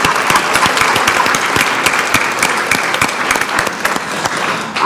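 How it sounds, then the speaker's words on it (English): Loud, sustained applause from a ballroom audience, many hands clapping in a dense, even patter that holds steady for about five seconds. "Let's give them a round of applause."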